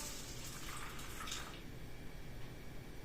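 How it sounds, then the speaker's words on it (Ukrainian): Water is poured over a heaped coffee spoonful of salt, a soft steady trickle and splash up close, fading into a quiet hiss after a second and a half. "я ось кофейну ложечку з гіркою і водичкою заливаю"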